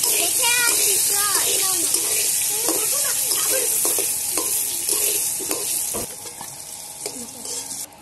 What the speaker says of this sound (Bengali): তার মধ্যে একটু লবণ আর একটু হলুদ দিয়ে ভেজে নেব।